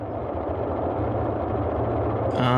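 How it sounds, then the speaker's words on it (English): Two piston engines of a Boeing 247D idling on the ground in Microsoft Flight Simulator 2020, a steady low droning rumble heard with a window slightly open, with a brief voice starting at the very end. "And yeah, both engines are running."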